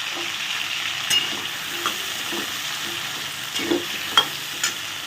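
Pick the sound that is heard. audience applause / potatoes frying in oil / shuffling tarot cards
potatoes frying in oil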